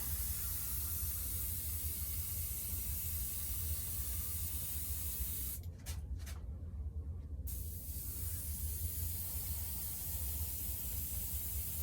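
A steady fine hiss of an airbrush spraying paint on an RC Hawker Tempest model runs throughout, with a brief break of a couple of seconds midway, over constant low background hum.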